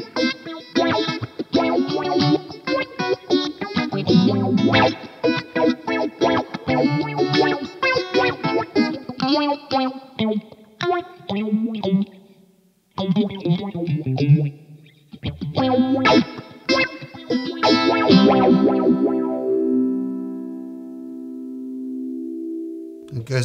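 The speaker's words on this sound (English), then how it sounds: "The feedback is how intense the phaser sound is." Guitar through a Way Huge Smalls Attack Vector phaser and envelope pedal, sweeping and swirling with heavy feedback over busy, distorted riffs and strummed chords, ending on a long sustained chord that slowly phases away; loud and close with no talking.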